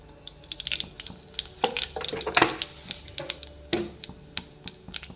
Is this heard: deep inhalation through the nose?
no